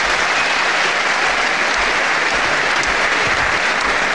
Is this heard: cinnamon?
no